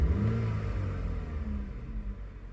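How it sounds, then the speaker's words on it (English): A BMW X1 engine with a K&N air filter revving a couple of times, a low rumbling rise and fall heard from inside the vehicle. "We're going to go ahead and just give it a couple revs and see how it sounds"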